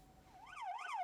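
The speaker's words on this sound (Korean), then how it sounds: "사이렌을 울리며 출동하는 소방차." Fire truck siren in Gyeongju, South Korea, a wailing tone sweeping up and down that swells louder over about a second, heard at moderate distance over faint traffic noise.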